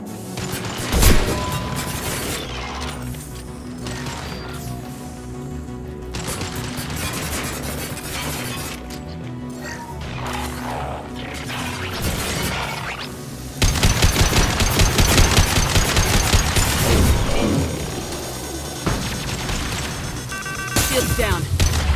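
Heavy automatic gunfire in the video game Mass Effect 2, loud and nearly continuous, with sharp impacts and crashes mixed in and a harder, denser barrage in the second half, over game voices.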